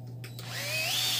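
A power drill drives screws into a strip cut from an old tire, with a steady motor whine rising in pitch over a low hum, close and fairly loud.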